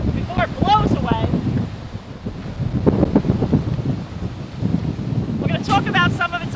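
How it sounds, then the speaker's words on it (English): Strong wind gusting outdoors in the Florida Everglades buffets the microphone in a steady low roar, with a person talking over it throughout. "Wow, the wind is picking up."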